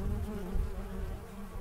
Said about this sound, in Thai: ผึ้งที่นี่เป็นผึ้งที่ กินน้ำหวานหรือเกสรจากดอกชนิดนี้นะคะคือดอกมีโมซา